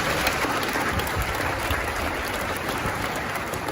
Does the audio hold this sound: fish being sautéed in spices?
no